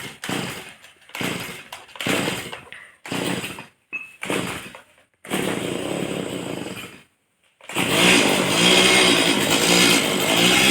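A motorcycle bumps along a rough rural path, its engine revving in short, uneven bursts with brief silent gaps, then holding a longer, louder, rattling run up close.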